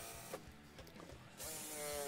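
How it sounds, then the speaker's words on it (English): Power drill with a Forstner bit boring starter holes in wood for a jigsaw cut on a bay window seat, a faint hum that swells into a steady, louder whine partway through, close by and without talking. "Here I just put a Forstner bit on my drill."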